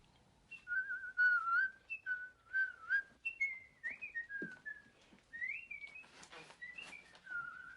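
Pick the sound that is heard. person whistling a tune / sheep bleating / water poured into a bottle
person whistling a tune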